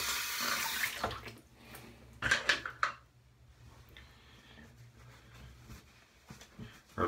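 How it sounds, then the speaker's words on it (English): Tap water runs steadily over the handle of a shaving brush being rinsed at a sink, a brief louder splash in the middle, then a softer trickle to the end, with no talking. "Had to rinse my handle off."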